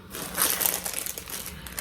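Continuous crinkling and crushing of a plastic bag, close and fairly loud, with irregular crackly bursts throughout.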